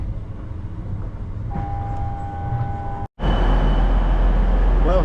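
A train rumbles at a Manchester Piccadilly station platform, a steady low drone with a faint tonal whine, then a louder roaring burst of rolling noise after a short cut.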